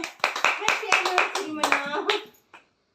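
At a parents' anniversary celebration at home, several people clap in uneven bursts up close while voices talk over them, and the clapping fades out near the end.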